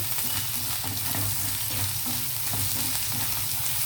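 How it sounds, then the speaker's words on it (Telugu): Curry leaves, coriander and green chillies fry in hot oil with a loud, continuous close-up sizzle and crackle, joined by occasional stirring scrapes, with no voices over it. "సో ఇవి కూడా వేసేస్తున్నాను నేను, కరివేపాకు, కొత్తిమీర, పచ్చిమిర్చి. ఇవి కొంచెం ఫ్రై అయిన వెంటనే మనము చికెన్ వేసేద్దామండి."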